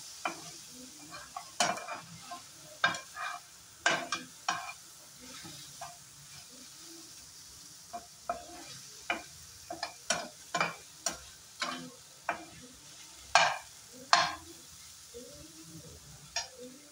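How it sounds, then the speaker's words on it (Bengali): Rajma masala ingredients dry roasting in a pan without oil, with repeated scraping stirs over a soft, steady sizzle. The strokes come in irregular bursts, fairly close, with no talking. "সবগুলো জিনিস ভালো করে ড্রাই রোস্ট করে নেব"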